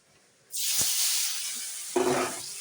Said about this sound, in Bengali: এখন দেখো পনিরটা ভেজে নেব এখন পনিরগুলো দিয়ে দিই